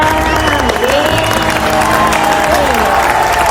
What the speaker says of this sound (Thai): ขอเสียงปรบมือหน่อยค่ะ